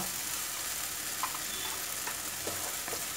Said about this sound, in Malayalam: ഈ മസാല ഒന്ന് ഇതിൽ നന്നായിട്ടൊന്ന് വഴറ്റിയെടുക്കുക